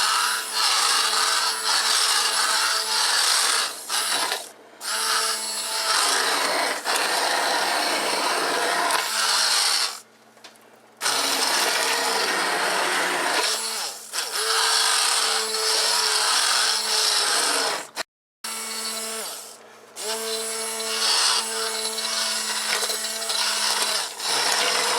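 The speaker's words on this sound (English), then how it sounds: "I'm going to do the immersion blender in here now." An immersion blender purées tomato salsa in a pot, a loud, gritty whirring in long runs broken by a few brief stops.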